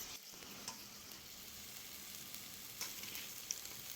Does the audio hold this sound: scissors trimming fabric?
no